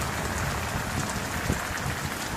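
Heavy summer downpour in Upleta, Gujarat, during a storm with hail and lightning, a dense steady roar of rain pounding surfaces close by with one sharper impact midway.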